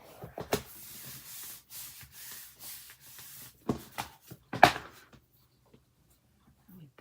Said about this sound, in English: We burnish.